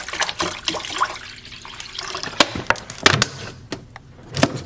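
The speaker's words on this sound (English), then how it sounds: "Pour my water in there." Water splashes and trickles into a pot on a stovetop in uneven bursts, with sharp knocks and clatters breaking through the steady pour.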